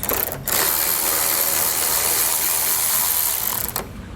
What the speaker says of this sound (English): We also have a 7mm here on the side. So I'm going to go ahead and get this one taken off.